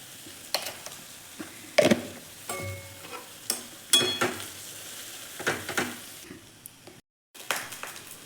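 Leftover cooked rice being stir-fried and tossed in a pan, with repeated scraping strokes of a spatula and clinks against the metal over a soft background sizzle, heard close in an irregular rhythm.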